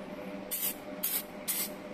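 Contact cleaner spray lubricant is sprayed onto a powered switch in three short hissing bursts about half a second apart. The bursts are close and fairly quiet, with no talk.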